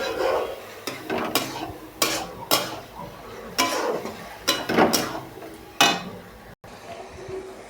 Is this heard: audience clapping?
no